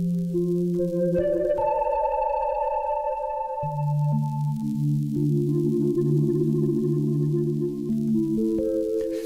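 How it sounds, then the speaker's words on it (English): Sustained, layered pad chords from an Arturia MiniFreak synthesizer shifting slowly, run through an Eventide H90 pedal with long reverb tails that blur each change into the next, with no voices. "Here's the pad from the Mini Freak."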